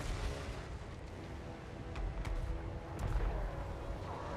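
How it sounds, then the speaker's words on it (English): Mortar fire in a Total War: Warhammer 3 battle in Reikland, heavy booming blasts rolling over a dense rumble of battle noise, with a few sharper cracks standing out. "Ooh, good mortar shot, sir"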